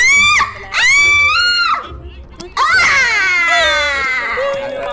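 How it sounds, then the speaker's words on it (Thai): Long, wailing screams rise and fall in a Roblox werewolf game, several loud drawn-out cries with a short gap between them, high and harmonic like a crowd of voices shrieking. "โอ้โหมีเสียงกรีดร้องอันหวยหวน"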